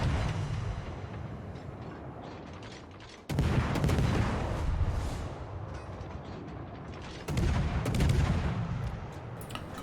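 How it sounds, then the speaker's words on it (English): Tashkent destroyer main guns firing in World of Warships, two heavy booming salvos a few seconds apart, each with a rumbling, crackling tail over continuous battle noise. "Good rate of fire on the Tashkent."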